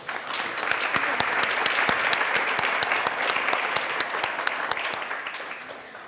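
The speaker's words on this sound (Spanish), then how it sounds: "Le brindamos entonces el aplauso que se merece." Sustained audience applause at a panel discussion, loud and dense with sharp individual claps standing out, holding steady for several seconds before tapering slightly at the end.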